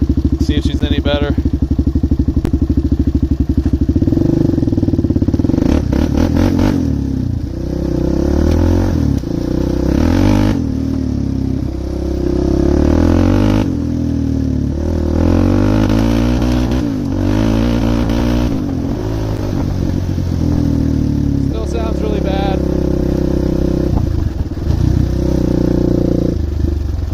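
A DVX400 ATV engine runs loud and close after tuning, its rough idle rising and falling through repeated revs with mechanical clatter, while a voice talks intermittently over it.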